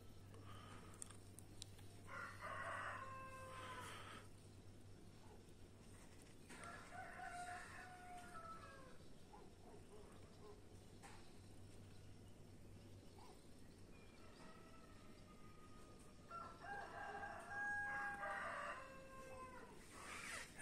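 A rooster crows several times, loud and drawn out, with quieter pauses between calls over a steady low background hum.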